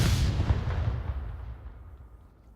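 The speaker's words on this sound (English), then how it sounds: "That's a perfect, perfect grenade." A grenade goes off in Onward, the VR military shooter, during a competitive match. It gives one heavy explosive boom at the very start, and a long rumbling tail slowly dies away.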